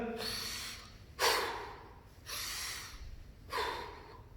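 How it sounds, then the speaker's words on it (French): Four forceful breaths drawn in through the nose during a home workout of thrusters. Each sharp, hissing inhale lasts about half a second, close to the microphone, separated by quiet pauses. "J'inspire par le nez sur mes thrusters."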